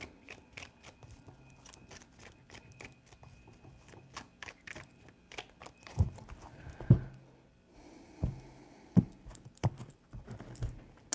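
Tarot cards are shuffled by hand in a quiet room, soft papery riffles and flicks with a few sharper slaps and taps near the end, close and fairly faint.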